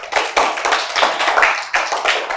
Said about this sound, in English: Give a good clap for her.